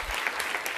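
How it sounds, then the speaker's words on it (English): Audience at a women's leadership conference in Washington, D.C. applauding cabinet members, a brief burst of steady crowd clapping. "Give them another big round of applause."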